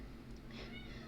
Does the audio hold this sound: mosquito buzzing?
no